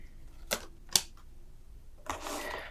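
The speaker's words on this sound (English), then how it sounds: "Let me put all the cards up." Tarot and oracle cards are laid out on a surface: two sharp close clicks and snaps, then a longer brushing slide of cards, quiet with no talking.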